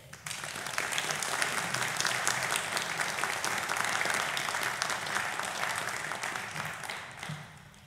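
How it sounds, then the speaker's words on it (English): An audience at a lecture on Swedish family law applauds steadily to welcome the speaker, a dense even patter of many hands that starts abruptly, holds for several seconds, then tapers off. "May I ask you to join me in applause"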